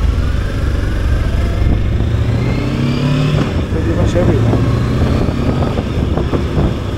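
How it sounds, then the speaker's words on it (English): Motorcycle engine, either a Voge 525DSX or a Royal Enfield Himalayan 450, pulling away with rising revs, loud and close, under someone talking. "Oh, I like the engine."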